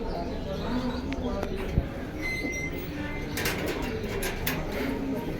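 Pigeons coo softly in a loft or breeding setup where pigeons are kept for sale, low murmuring calls repeating under a steady background hum with faint distant voices.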